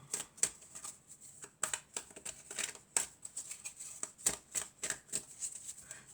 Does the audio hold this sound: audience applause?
no